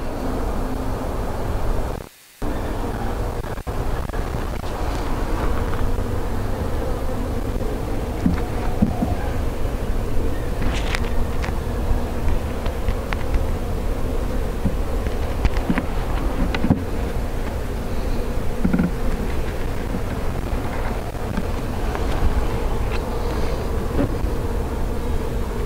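Golden Cordovan honeybees hum steadily around an open hive during a frame inspection, a continuous close droning buzz with occasional louder passes, alone with no talk.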